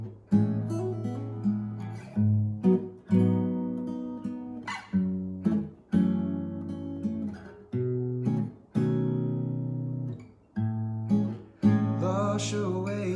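Guitar strumming the chords of a song in a lower key, with a voice singing the lyrics; chords ring in separate strummed bursts that fade between strokes, fairly quiet and close.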